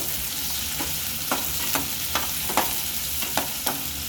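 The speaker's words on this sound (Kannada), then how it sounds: "ಈರುಳ್ಳಿ ಚೆನ್ನಾಗಿ ಫ್ರೈ ಆಗಬೇಕು." Onions and green chilies fry in hot oil in a pan, a steady sizzle broken by sharp periodic scrapes of a stirring spoon, close and alone with no voices.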